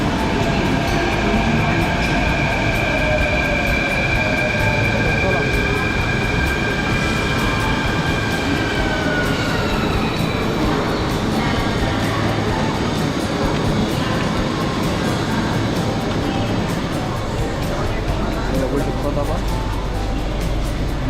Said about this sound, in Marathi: वर्सोवावरून आता मेट्रो आली आहे घाटकोपरला जाणारी